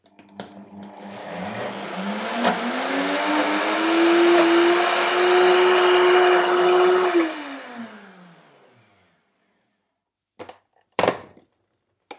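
A blender runs on a raw vegan mixture, whirring up to a steady high whine for about seven seconds before winding down, followed by a few brief clunks.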